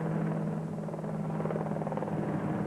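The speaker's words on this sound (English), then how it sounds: "A helicopter heralds the arrival" A helicopter at the 2005 Lesotho Sun 400 off-road race drones steadily with a low rotor hum and chopping texture, fairly loud and continuous, no voices.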